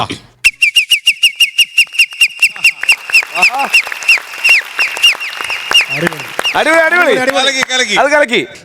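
A human voice imitates a bird-call doorbell: a fast run of evenly spaced, high chirping notes, then looser warbling trills, loud and close.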